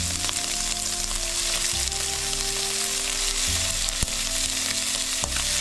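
Shrimp sizzles steadily in hot oil for restaurant-style mixed fried rice, a dense continuous crackle that stays loud and even throughout, with a low background hum and no talking.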